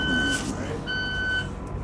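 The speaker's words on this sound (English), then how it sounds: "Same damn alarm for 10 hours." An alarm beeping aboard a crab fishing boat at sea, two sustained tones sounding in bursts over engine rumble and a voice.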